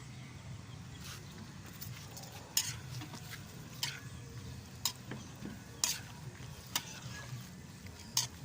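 Shrimp paste (alamang) being stirred in a pan with a utensil, giving a low steady sizzle broken by sharp scraping clicks at irregular intervals, close by with no talking.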